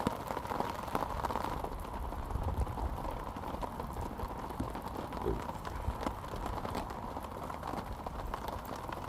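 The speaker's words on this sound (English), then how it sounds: "I think this rain's in for the full night," Steady rain falls at a woodland wild campsite at Haweswater in the Lake District, a continuous soft patter and hiss on surfaces, faint and even throughout with scattered louder drops.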